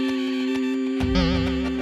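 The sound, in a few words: child imitating a bee buzzing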